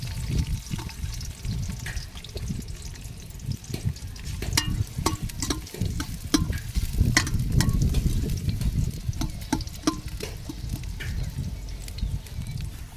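Onions sizzle and fry in hot oil for a tempering while a village-style egg and chicken curry is cooked, with a steady crackling hiss and scattered stirring clicks running close and fairly loud throughout.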